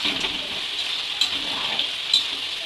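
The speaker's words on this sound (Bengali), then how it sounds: "এবার দিয়ে দেবো কাজু কিশমিশগুলো ভালো করে ভেজে দেবো" Cashews and raisins fry in a pan with a steady, close hiss and sizzle, broken by a few brief stirring scrapes and clicks, with no talking.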